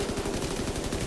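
Rapid video game gunfire, a dense stream of shots at a steady fast rhythm, loud and continuous throughout with no talk.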